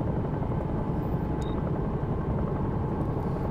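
A Bell 222 air ambulance helicopter in the X-Plane 11 simulator flies in cruise. Its rotor and turbine drone is a steady, dense roar that holds at an even level throughout, with no voices.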